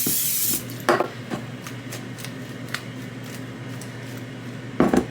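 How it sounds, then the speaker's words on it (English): A couple of short hissing bursts from an olive oil cooking spray, one near the start and another near the end, with light handling noises in between. "So now I'm gonna go ahead and use some of this olive oil spray."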